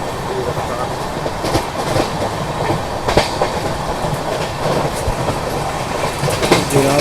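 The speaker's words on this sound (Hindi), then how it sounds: "बिहार को जाती हुई लोकल हमारे बगल से गुजर रही है।" Rhythmic clickety-clack and steady rumble ride inside the moving Rajdhani Tejas 12952 from New Delhi to Mumbai as a local train bound for Bihar passes alongside, a continuous, fairly loud rolling din with sharp wheel knocks.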